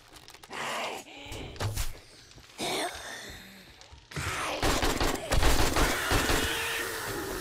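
AK rifle fire in the zombie survival game 7 Days to Die, loud bursts of shots in separate clusters with thuds and breathy grunts between them, growing denser and more sustained toward the end.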